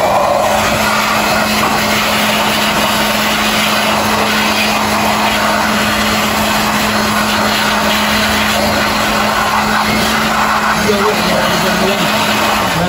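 Air blower running during CVT cleaning on a car: a loud, steady whooshing roar with a constant hum, close and unbroken, while people talk over it.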